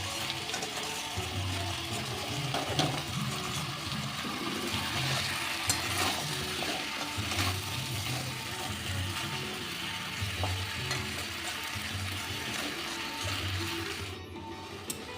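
Mutton and prawns stir-fried together in a pan, giving a continuous, steady sizzle with a low rumble and scraping underneath throughout, and no talking.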